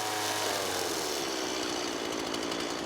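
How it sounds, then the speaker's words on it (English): A chainsaw cuts a groove about an inch deep into the back of a piece of wood, a loud continuous buzzing whine heard close up with no talking. "I'll take the chainsaw and cut a groove about 1 inch in to the back here"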